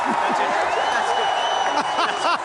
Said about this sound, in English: This team deserves all the applause.